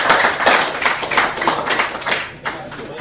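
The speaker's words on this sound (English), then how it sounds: "Let's give him a round of applause." Applause from a small workshop audience, loud close-up clapping in uneven bursts that thins toward the end, with a few voices mixed in.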